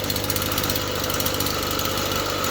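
A Poulan string trimmer engine idles steadily with a buzzing, slightly knocking two-stroke rumble, close and loud throughout with no talk.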